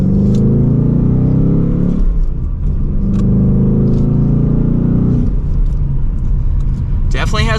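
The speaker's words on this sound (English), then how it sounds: "Definitely has a good exhaust note to it in track mode." A 2023 Ford Mustang GT coupe with manual gearbox and exhaust in track mode accelerates from second gear, its loud, deep drone rising and dropping between shifts as heard from inside the cabin.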